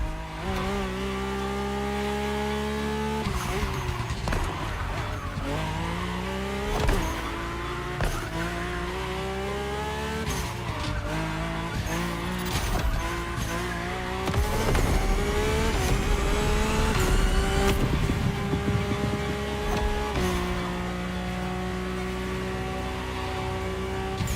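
Mercedes-AMG One engine in The Crew Motorfest revs hard and shrill through repeated upshifts and throttle swells, with occasional tire squeal, loud and continuous across the drive.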